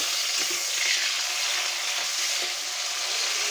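Dried fish (shutki) added to a frying pan of browned onions while cooking a curry with jackfruit seeds and Malabar spinach gives off a loud, continuous close sizzle with faint stirring clatter.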